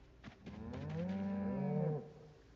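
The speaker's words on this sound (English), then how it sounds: "I just heard cows" A single long, deep moo from a cow in a video game, fairly close and clear, rising and then cutting off after about two seconds.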